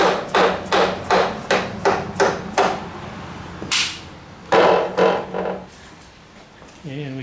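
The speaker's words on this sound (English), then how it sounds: "We'll give her a couple love taps to get the axle started moving." A hammer strikes a threaded bolt to tap the front axle out of a Honda VTX 1300R motorcycle fork: a rapid run of about eight sharp metallic taps, a pause, then three more, close and loud.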